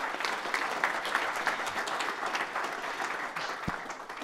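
Steady audience clapping follows a pitch at a small-business competition event, a moderately loud mass of applause from a roomful of people throughout.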